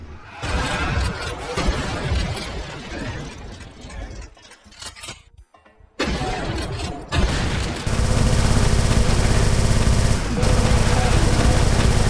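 Heavy, loud gunfire from the video game Brutal DOOM, dense rapid shots and booming blasts filling the mix almost without pause, a brief lull midway, then a sustained roaring barrage.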